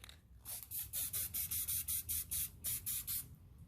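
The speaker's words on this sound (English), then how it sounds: "And just hit them with a little spray paint." Short bursts of aerosol spray paint hissing from a can onto Harley-Davidson Road King seat bolt parts, about a dozen quick pulses in a steady rhythm, close and fairly loud.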